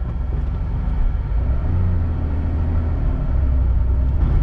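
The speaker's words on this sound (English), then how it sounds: "We're in a 1987 Porsche 930 Slant Nose, and we're gonna take her for a bit of a spin" A 1987 Porsche 930 Slant Nose, stock and US-spec, rumbles steadily from inside the cabin while driving, with a deep, loud engine drone and a slight swell in pitch partway through.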